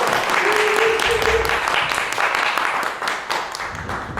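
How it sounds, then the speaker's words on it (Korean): An audience claps at a lecture and discussion event, with a close, dense wash of applause that holds steady for several seconds and then starts to fade. "큰 박수 부탁드릴게요"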